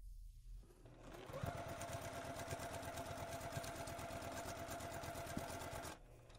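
A sewing machine stitches quilt binding strips in a steady, fast, even whir with rapid needle pulses, starting after a quiet moment and stopping abruptly near the end.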